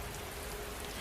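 Steady background rainfall pours all around in a continuous, even hiss with no gaps, fairly faint, with no voices over it.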